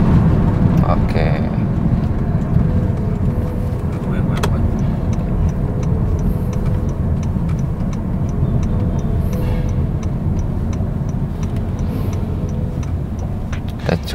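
A Honda car idles and runs during a transmission test in a repair workshop, a steady low engine rumble with faint ticking, while people talk over it.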